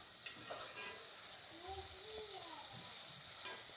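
Tomatoes and other ingredients for aloo bharta sauté in a pan, giving a faint, steady sizzle with soft stirring taps, and a quiet voice murmurs briefly underneath.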